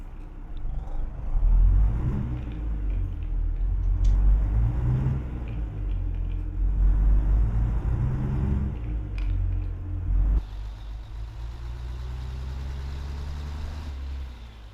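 Mack B-61 truck engine in American Truck Simulator rumbling steadily at low revs throughout, loud and close, with a slight change in tone near the end as it settles toward idle.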